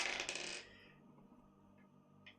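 Dice clatter onto a hard surface in a quick burst of bright rattling clicks that settle within half a second, followed by a quiet room and a faint tap near the end.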